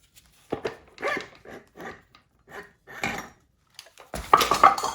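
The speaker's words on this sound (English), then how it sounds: "Go ahead and pull this torque converter out." A torque converter being pulled out of a Lexus A650E automatic transmission: a series of close metallic scrapes, clunks and rubbing knocks in uneven bursts, ending in a louder cluster of clanks.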